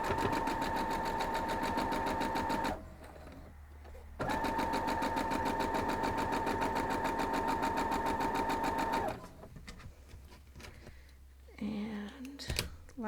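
A sewing machine stitches quilt block pieces together in two long steady runs with a short pause between them, a close, even mechanical whir. It stops near the end, leaving quieter handling noises and brief soft talk.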